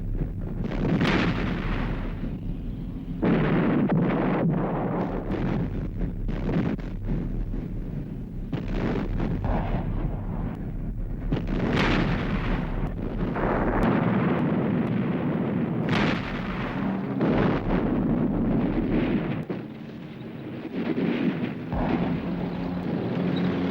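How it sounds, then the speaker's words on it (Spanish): Naval bombardment during a World War II beach battle against advancing Panzer columns, heard as a dense, continuous barrage of loud booming explosions and rumbling blasts that roll on without pause for the whole stretch. "comienza un bombardeo que detiene al enemigo en su camino"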